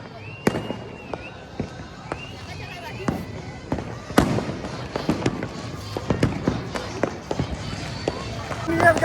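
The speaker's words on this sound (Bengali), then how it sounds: "চারিদিকে বাজি ফাটছে।" Fireworks burst all around during a midnight New Year celebration, sharp cracks and bangs near and far scattered irregularly, with whistling rockets rising and voices talking underneath.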